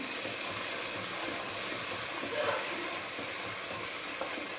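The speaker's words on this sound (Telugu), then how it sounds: "ఇది కూడా పచ్చి వాసన పోయి ఆయిల్ వేలే వరకు మనం వేయించుకోవాలి" Masala with turmeric frying in oil for a chole curry, a steady soft sizzle with faint scraping stirs, close and continuous, with no talking.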